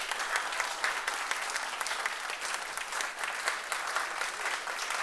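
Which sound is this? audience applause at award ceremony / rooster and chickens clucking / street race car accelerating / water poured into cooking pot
audience applause at award ceremony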